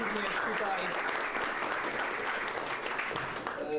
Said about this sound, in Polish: Także brawa również dla Tomka